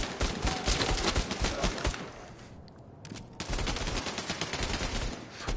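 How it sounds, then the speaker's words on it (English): Dense rapid gunfire rattles in the PSVR co-op shooter Bravo Team, loud overlapping automatic bursts that drop away briefly near the middle and then resume just as heavily. "it's a little intense when you know people are shooting at you and you can, like, see the bullets flying"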